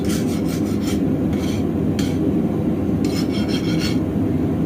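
A metal file skates steadily across hardened steel on a forged knife tang in repeated strokes, a continuous gritty scraping close up with no talking.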